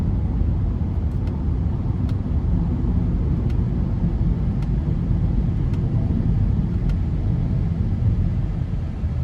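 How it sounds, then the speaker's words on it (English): A 2020 Acura TLX with the 2.4-litre engine cruises on a back road, a steady low engine hum and road rumble at moderate level with faint light ticks, no talking. "And the engine's very quiet."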